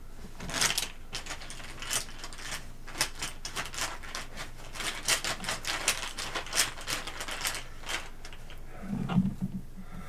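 Tarot cards being shuffled, quick papery riffles and flicks in bursts, close and fairly quiet, with no talking.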